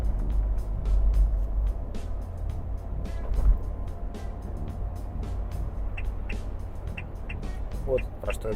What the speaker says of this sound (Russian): это звук системы, которая предупреждает, что мы сейчас превысили скорость